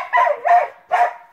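A dog gives three sharp barks in quick succession, close and loud with nothing else around them.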